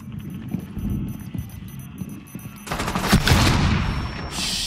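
Rapid bursts of gunfire in a Rainbow Six Siege match, a steady low rattle of shots that swells into a louder, harsher volley in the second half, with no voices over it.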